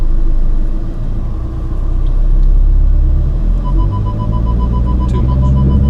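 A learner driver feeds gas to a car moving off, the engine rumbling loud and steady with a slight rise in pitch toward the end, heard close inside the cabin with no talk.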